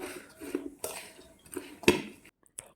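Star fruit pickle being mixed by hand in a bowl with added chili powder, giving a few clinking, scraping taps of a utensil against the dish amid quiet pauses, close and fairly soft.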